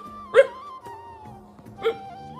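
Dogs in a household during a puja give two short, fairly loud yelping barks about a second and a half apart, with quiet background between them.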